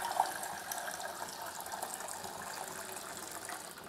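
Water pours steadily into a pan in a workshop while a pitch tool for polishing a telescope mirror is being made, a continuous close splashing gush with no speech.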